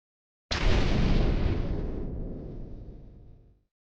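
A single deep, booming blast of hunters' gunfire out in the marshes, striking sharply and loud, then rolling away in a long echoing decay over about three seconds.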